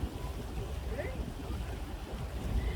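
Cool wind buffets the microphone on a boat trip along a river basin, a steady low rushing gust with water and engine noise beneath it. Someone speaks now and then.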